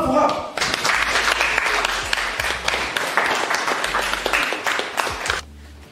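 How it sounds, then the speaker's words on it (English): An audience at a school maths contest prize announcement claps in a dense, sustained round of applause that fades out near the end, with voices audible beneath it. "Wow, wow, clap for her."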